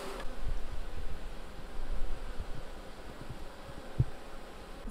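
Honey bees being shaken out of a package drone in a steady, dense buzz, close and moderately loud, with a few soft knocks and no talk over it.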